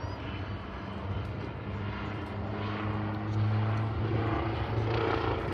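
A helicopter performing a pedal turn at Farnborough Airshow drones steadily nearby, its engine and rotor hum rising slightly in pitch and loudness toward the end.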